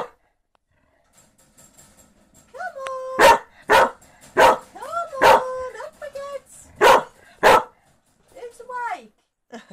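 Several puppies barking and yipping in short, excited bursts at close range, with high whimpering cries between the barks and a person speaking softly nearby.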